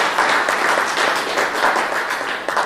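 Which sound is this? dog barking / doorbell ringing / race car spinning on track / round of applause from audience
round of applause from audience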